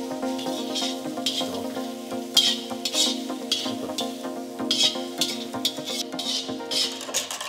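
Boiled potatoes for stuffed idli are mashed in a metal vessel, giving a steady series of rhythmic scraping, squishing strokes against a constant background hum.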